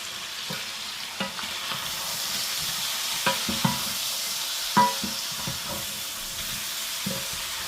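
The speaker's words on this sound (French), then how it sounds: "on remue tout ça ensemble, de façon à ce que la farine puisse se répartir partout" Floured veal paupiettes sizzling in a pan while being stirred, a steady hiss broken by a handful of sharp utensil scrapes and clicks against the pan, close and moderately loud with no speech.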